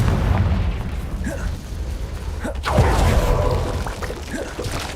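Confringo blasting spell explosions in Hogwarts Legacy: a continuous rumbling, crackling din with several sharp bursts, including a strong blast near the middle, all loud and close throughout.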